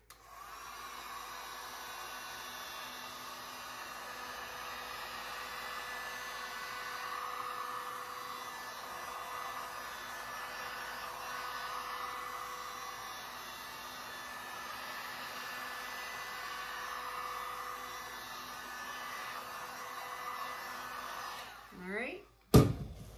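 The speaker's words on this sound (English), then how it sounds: "Let me heat this up with my heat gun." A heat gun blows steadily on an epoxy resin art board for about twenty seconds, a constant close airy roar that stops abruptly near the end with a brief clatter.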